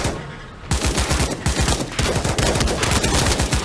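Gunfire in the VR zombie shooter Pavlov Shack, with an automatic shotgun in play: after a brief lull, dense rapid bursts of loud shots pound continuously and close.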